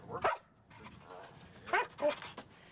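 Search and rescue dogs in training at a construction salvage yard give several short, sharp barks and yips in quick bursts, close by, with a voice talking over them.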